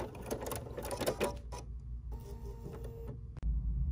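A sewing machine stitching fabric butterflies runs in a fast, steady mechanical whir, close and moderately loud, slowing into separate ticking stitches before a brief stop and restart near the end, with no talking.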